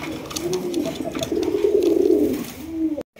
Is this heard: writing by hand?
no